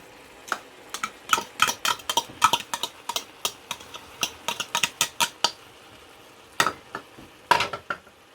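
Chopped onions and carrots are worked into a raw meatloaf mixture for Jamaican meatloaf, with a steady run of close, wet clicking and squelching stirs in irregular bursts and a short pause before a few final strokes.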